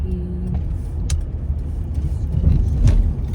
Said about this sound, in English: Yeah, it's a lot of traffic.